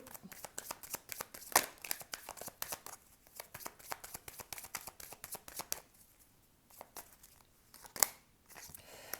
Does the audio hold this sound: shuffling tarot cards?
yes